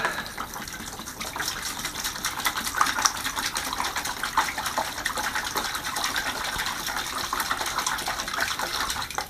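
Water pours in a continuous, splashing gush into a container for mixing drywall adhesive, steady and close for several seconds.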